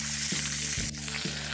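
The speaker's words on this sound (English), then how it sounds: "After about 2 or 3 minutes of sizzling, it'll be close." Duck breast searing in a hot pan gives a loud, continuous sizzle close up, crackling evenly throughout with a few soft shifts as the meat settles.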